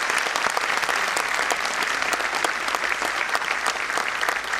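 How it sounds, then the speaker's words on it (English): Loud, dense applause fills a school annual day as the audience welcomes young child performers, steady clapping from many hands throughout with no talk over it. "let us welcome the little ones with a loud round of applause"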